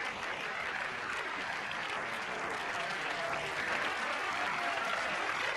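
An audience applauds at a performance with dense, continuous clapping that stays even and fairly distant throughout, with no talk over it.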